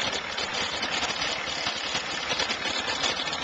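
A vintage tractor engine idles at a tractor show, a steady, even chugging drone heard from a moderate distance with no breaks or changes in pace.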